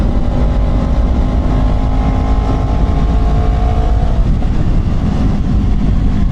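A motorcycle about nine years old drones steadily and loudly while riding along the Pantura coastal highway from Pemalang toward Pekalongan, its engine hum constant beneath wind noise with no talking.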